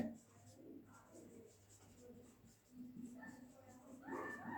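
Faint scratchy strokes of writing on a board, irregular and soft, with a quiet, muffled voice murmuring in the background.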